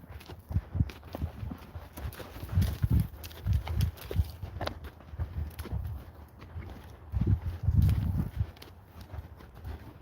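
Arabian horses walking on a quiet morning, hooves clip-clopping in irregular, fairly close steps with uneven loudness and no talking.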